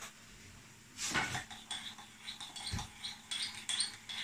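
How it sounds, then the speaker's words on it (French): A small spoon stirring saffron water in a glass, giving light, quick tinkling clinks and scrapes against the glass in irregular bursts, faint and close. "Et je vais touiller avec une petite cuillère."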